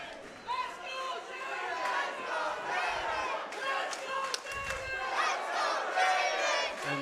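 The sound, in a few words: crowd cheering for a fighter at an MMA boxing event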